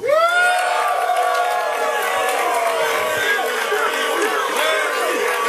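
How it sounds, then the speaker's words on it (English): A large boxing crowd roars and whoops continuously, a dense wall of cheering with shouted voices rising and falling throughout. "This is definitely a Mayweather crowd"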